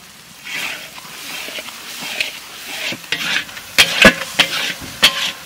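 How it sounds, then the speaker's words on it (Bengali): Spices including turmeric, salt and Kashmiri chili powder fry and get stirred in a pan for a village-style chicken posto curry: a steady sizzle with scraping spoon strokes that grow louder and sharper toward the end. "মশলা কষানো হয়ে গেছে"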